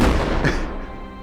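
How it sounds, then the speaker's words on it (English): A cannon fires once in an animated pirate ship scene, giving a single loud, close boom that decays over about a second. "Somebody, lit that cannon."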